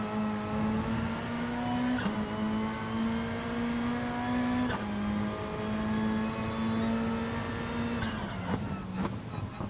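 Gran Turismo Sport racing game with a GR3 race car, its engine droning steadily near and loud with rising and falling pitch through gear changes, downshifts under braking and faint tyre noise, no talk.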